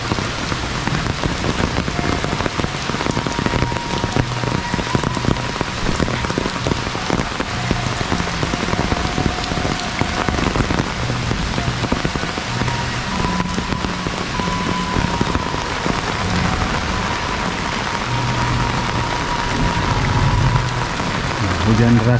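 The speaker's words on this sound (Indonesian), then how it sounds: "Hujan deras gini" Heavy rain pours steadily on a rural village, a dense, loud and continuous hiss of drops hitting surfaces, with faint low tones mixed into the downpour.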